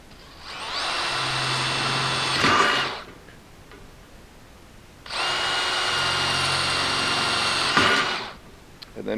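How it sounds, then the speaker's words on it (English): A power drill whirs in two sustained bursts of a couple of seconds each while drilling holes for screws in a parts washer mobile base, close and loud, with a quiet pause between them. "Drill some holes."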